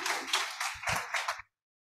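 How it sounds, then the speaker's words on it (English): A short burst of audience applause at the NYCIKS 2023 conference keynote: a dense, fairly close patter of many hands that stops abruptly after about a second and a half, leaving silence. "a big round of applause for her."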